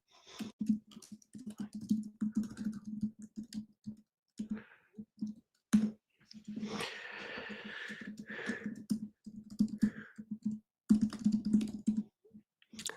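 Clicky keys on a computer keyboard tapped in quick, uneven bursts across the whole stretch, close and moderately loud, with a few short pauses and louder strokes but no talking.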